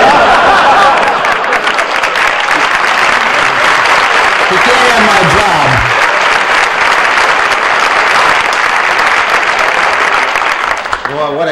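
Loud, sustained applause from a large audience at a NASA engineering event, dense clapping that fills the room without a break before it tapers off at the very end.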